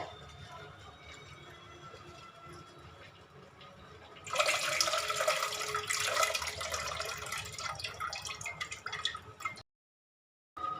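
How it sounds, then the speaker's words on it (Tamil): Dissolved tamarind water is poured into a pan of Kumbakonam-style fish curry, starting with soft trickling and then a louder, splashing stream for several seconds before it stops abruptly. "நல்லா புளியை நல்லா கரைச்சி ஊற்றிக்கிங்க."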